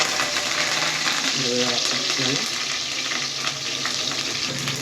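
Curry leaves hit hot oil already holding cumin and mustard seeds, setting off a loud, steady sizzle and crackle that fills the pan sound close up, with a voice speaking over it.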